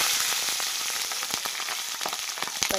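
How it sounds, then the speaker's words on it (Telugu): Green chilies fry in very hot oil with a steady dense sizzle, punctuated by sharp crackles and pops close by, continuous throughout without any voices. "ఇంకా అదేవిధంగా పచ్చిమిర్చి కూడా వేసేసుకుందాం."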